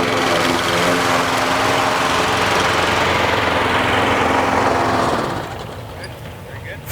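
A residential lawn mower engine runs loud and steady nearby, its buzzing drone holding constant before dropping off toward the end, with talking mixed in.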